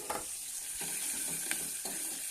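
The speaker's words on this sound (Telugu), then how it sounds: "చూడండి కాలింపులు బాగా ఎగినాయి" Tempering spices sizzle and splutter in hot oil in a home kitchen, with a steady bright frying hiss and several sharp crackling bursts spread across the moment, no voices.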